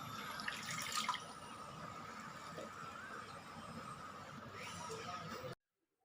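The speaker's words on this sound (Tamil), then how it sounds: "இப்போ இதுக்கு தேவையான அளவு தண்ணீர் வந்து சேர்த்துக்கோங்க" Water is poured into a pot or pressure cooker holding washed ponnanganni greens with cumin and turmeric. A steady, soft splashing stream runs for about five seconds, then stops abruptly.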